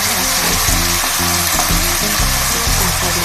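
Water spinach (morning glory) stir-frying in a hot pan with garlic, a loud steady sizzle filling the whole moment with constant crackle and spatter, close by and uninterrupted.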